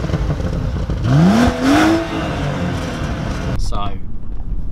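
A BMW 135i tuned to 370 driving with the engine revving up in a rising pull that eases off and climbs again, heard from inside the car with a loud, steady drone, then a sudden cutoff near the end.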